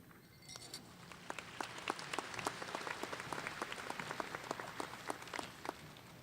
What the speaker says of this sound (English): Let's give those young people another round of applause.